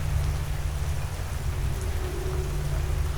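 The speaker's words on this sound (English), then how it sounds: "I guess at least we can get cleaned in the rain." Rain falls steadily in a liminal horror video game, a dense, even hiss with a low rumbling hum underneath, continuous and alone without talk.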